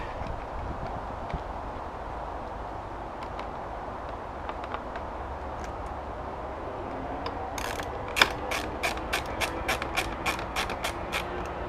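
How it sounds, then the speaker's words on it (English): A screw is driven in to mount a front canard on a C8 Corvette, heard as a quick rapid ratcheting click burst near the end after a long stretch of quiet room noise. "I'm going to stick the screw in just so I have a very accurate alignment here"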